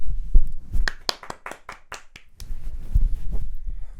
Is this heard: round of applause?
yes